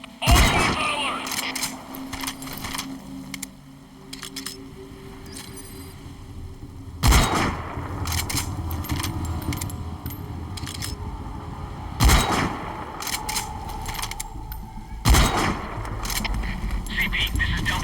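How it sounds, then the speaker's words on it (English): Gunfire rings out in the video game Metal Gear Solid V Ground Zeroes, several sharp cracks at intervals amid scraping and background rumble, with voices speaking over parts of it. "We're hearing gunfire."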